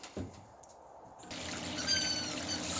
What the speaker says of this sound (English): we're going to run this through the sluice, and Bill's going to screen out the raw river gravel